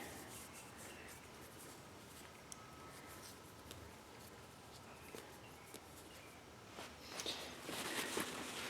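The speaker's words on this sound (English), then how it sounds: "So we'll try just wiping down this real quick." A cloth wipes quickly over a surface, soft faint rubbing strokes repeating close by, growing a little louder and busier toward the end, with no talk.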